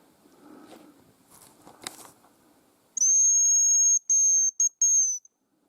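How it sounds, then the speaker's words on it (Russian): A hunter blows a decoy whistle to lure hazel grouse in the forest: after soft rustling and footsteps, one long thin high whistle sounds, followed by a few short clipped whistled notes, close and clear against silence. "Сейчас я здесь тоже начну свистеть."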